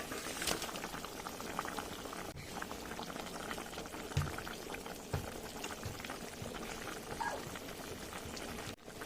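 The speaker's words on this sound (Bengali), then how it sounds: "ঝোলটা ভালো মতন ফুটে গেছে" Fish curry gravy of rohu and eggplant bubbling steadily in a pan, a dense continuous simmer with crackling bursts and occasional soft pops, close and moderately loud with no talking.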